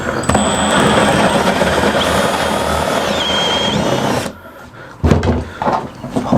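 A power drill fitted with a 20mm bit bores into a cabinet door, a loud close grinding and whirring for about four seconds, then stopping, followed by a few clunks and scraping handling noises.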